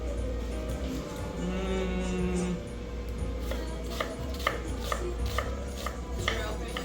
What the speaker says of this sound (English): next up we're gonna mince this onion